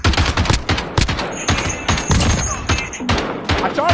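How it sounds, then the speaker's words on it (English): Rapid bursts of light machine gun fire in a first-person shooter, loud and close, with dense repeated shots throughout and brief pauses between bursts. "I shot him through the fucking wall."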